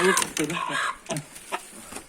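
Asil Indian rooster and hens clucking in short, close bursts, a few brief calls in quick succession with faint human voices in the background.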